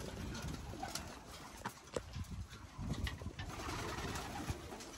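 Racing pigeons coo repeatedly in a loft in a low, throaty murmur, several birds overlapping, with faint rustling and scattered clicks against a busy background.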